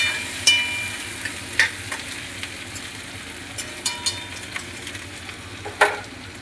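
Cauliflower and potato pieces frying in a pan for a breakfast dish, giving a steady low sizzle with a few sharp clinks of a utensil scraping and stirring at intervals, close and fairly quiet, with no voices.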